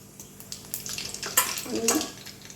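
Mustard and cumin seeds crackle and sizzle in hot oil in a pan, with sharp pops and spits over a faint frying hiss, close and moderately loud.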